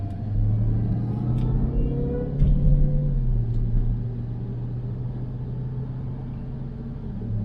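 A Jeep Trackhawk cruises after a transfer case repair, its engine and road noise forming a steady low rumbling drone from inside the cabin, with a brief swell partway through and no talking.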